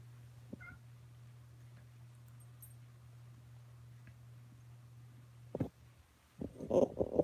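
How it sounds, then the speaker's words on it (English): A cat shut in a bedroom, wanting out, gives a couple of short meows near the end over a low steady hum in a quiet indoor room. "And this is Oscar wanting out of the bedroom."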